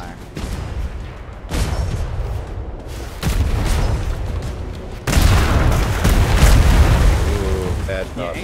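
Heavy cannon broadsides boom from galleons in a naval battle in the game Atlas, repeated loud booming blasts at intervals with rumbling aftermath, a crowded fight with talk over it.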